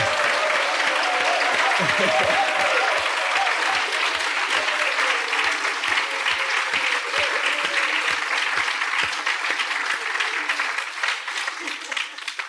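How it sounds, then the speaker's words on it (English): Sustained applause from a class audience at a Buddhist teaching, dense and loud throughout and slowly thinning toward the end, with some voices audible beneath it. "let's give him a clap when he comes in"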